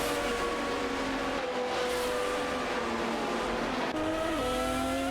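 Race cars in an AI-driven video game race, an Aston Martin DBR9 and a Ferrari 575 GTC battling among the pack, engines droning loudly and steadily with shifting pitch and a gear change near the end.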